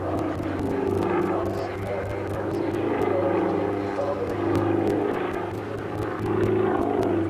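A propeller aerobatic display aircraft flies low and slow at the 1998 Farnborough airshow, its engine droning steadily and swelling in waves while a commentator talks over it.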